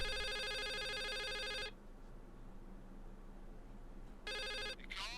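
A telephone rings in the video game The Suicide of Rachel Foster: a loud, steady electronic ring lasting over a second and a half, then a pause of background ambience, then a second ring that is cut short.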